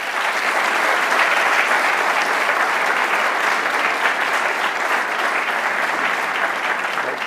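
Sustained audience applause welcoming a lecturer to the stage at a memorial lecture, dense, even clapping from a large crowd that holds steady throughout without voices.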